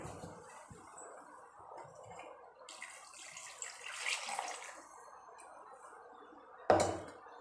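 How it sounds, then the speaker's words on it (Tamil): Water gurgles and splashes softly into a pressure cooker while making goat head curry, fairly close, followed by a sharp thunk near the end. "மிக்சி ஜாரில் அலசி வச்சுருக்க தண்ணியை நான் இப்போ சேர்த்துக்கிறேன்"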